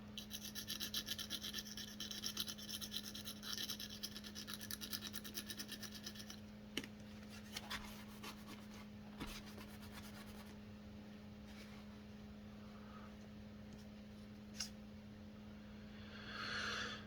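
An unpowered toothbrush scrubs a knife during a repair of a Tiger USA knife, giving faint, steady rasping strokes for several seconds and then a quieter stretch with occasional scratches, alone with no talk.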